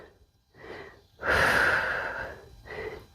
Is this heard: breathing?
yes